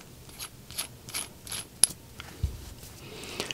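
A cap is screwed back onto a pressure washer unloader valve, giving soft, rapid ratcheting clicks in a loose rhythm, close and quiet, with one brief sharper tick midway.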